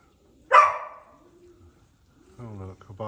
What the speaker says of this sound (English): Oh look, a barking dog.